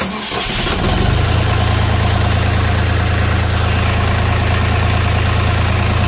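A Dongfeng 244DHX mini tractor engine cranks and catches within a second, then settles into a loud, steady, low rumbling idle that continues without change.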